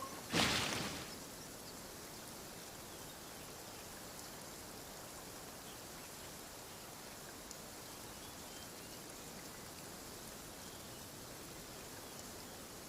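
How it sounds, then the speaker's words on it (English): Steady rain pours down in the video game Genshin Impact, a constant even hiss of drops on surfaces that starts with a brief louder burst and then holds at one level throughout. "Where'd this rain come from?"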